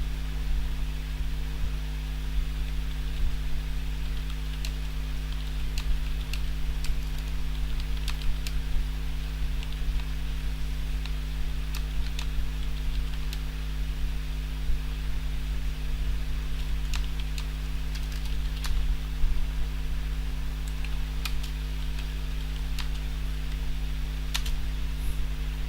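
Scattered keystrokes on a computer keyboard tap out irregularly, faint and sparse over a steady electrical hum and hiss, with no talking.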